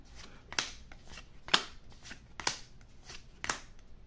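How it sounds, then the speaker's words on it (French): One Piece trading cards from a freshly opened pack being flipped through, four quiet crisp snapping flicks spaced about a second apart against a soft background, with no talking. "j'ai ouvert un paquet de cartes et on va les enchaîner."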